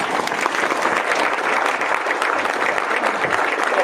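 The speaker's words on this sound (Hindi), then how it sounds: "अपने लिए जबरदस्त तालियां यार बजाइए" Steady, dense applause from a workshop audience at an Ayurveda event, continuous throughout with no one talking.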